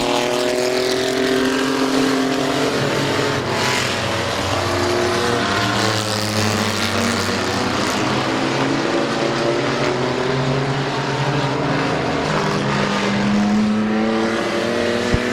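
Race cars roar around the Midvale Speedway oval, several engines droning together at high revs in a continuous loud, layered whine with shifting pitches as the pack circles.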